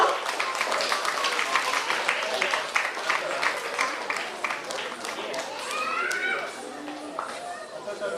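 An audience applauds at the tenth-anniversary ceremony of the Sri Nada Nartana Trust, a steady, dense patter of clapping with a voice talking over it.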